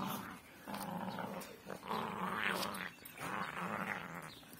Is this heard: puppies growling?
yes